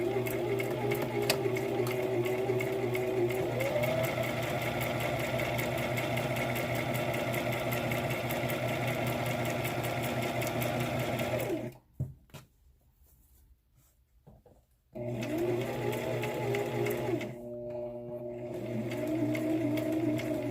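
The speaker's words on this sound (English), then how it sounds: "I'm going to backstitch." A sewing machine runs steadily and loudly while backstitching an adult-sized fabric face mask, stopping for about three seconds of near silence before whirring again.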